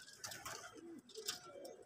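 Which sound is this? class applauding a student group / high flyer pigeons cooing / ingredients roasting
high flyer pigeons cooing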